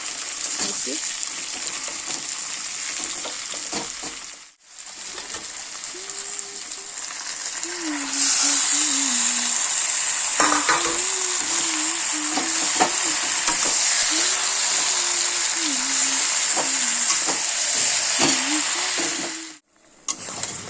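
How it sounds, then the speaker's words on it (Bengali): Taro greens frying in a pan with a constant loud sizzle and occasional stirring scrapes, while a person talks intermittently over the cooking noise. "দেখো এভাবে রান্না করলে কচু শাক ভালোই লাগে খাইতে"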